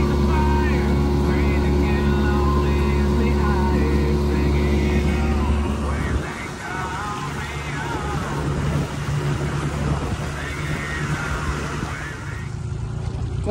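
A small jon boat's outboard motor drones steadily nearby in a cove, its pitch holding even at first, then roughening and dropping as the boat slows and shifts.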